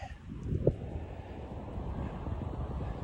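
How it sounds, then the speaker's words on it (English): Steady wind buffets the microphone with a low rumbling rush on an Appalachian Trail overlook above the Shenandoah Valley, outdoors and continuous, with no voices. "It's windy."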